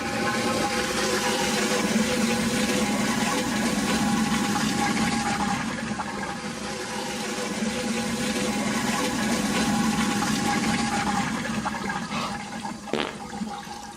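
A toilet flushes in a long rushing surge of water that swells, eases slightly, then continues as the tank refills, ending with a small clunk near the end.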